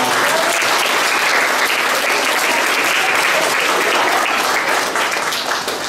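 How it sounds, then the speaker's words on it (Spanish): A seated audience at a radio station's first-anniversary event bursts into loud, sustained applause, dense and even from start to finish. "Vamos a darnos un aplauso nosotros mismos"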